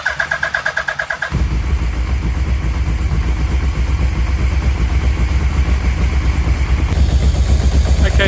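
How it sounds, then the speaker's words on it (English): A repaired car engine cranks with a rapid rhythmic chatter, then catches and settles into a loud, steady running idle, close by with no talk over it. "Okay, the engine starts."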